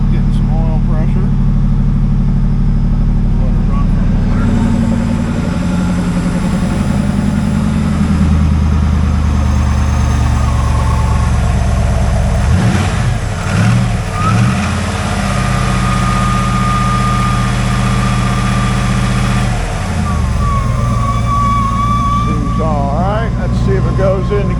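A 1995 Corvette C4 with the LT1 V8 and 63,000 miles runs loud and close at a steady idle, with a few revs lifting the low rumble; people talk over the engine throughout.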